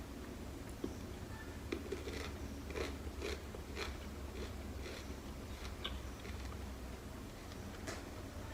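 Raw ginger being bitten and chewed close up, with a run of crisp, crunchy bites and mouth sounds that repeat in an irregular rhythm over steady low background noise.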